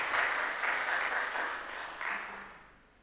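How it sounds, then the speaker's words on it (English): Applause from a conference audience at an annual business forum, a fairly dense burst of clapping that holds for a couple of seconds and then fades away toward the end. "the applause will be there"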